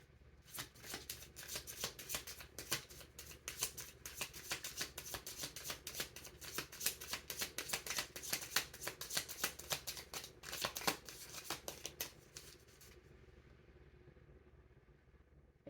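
A deck of tarot cards is shuffled again and again for about thirteen seconds in dense, rapid riffling bursts close by, then the sound stops and a quiet room remains.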